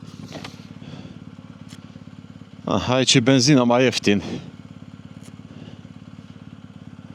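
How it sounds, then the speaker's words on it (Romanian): A motorcycle engine idles steadily in the background the whole time, a low constant hum, while someone speaks over it for a few seconds in the middle. "Nu opresc motorul."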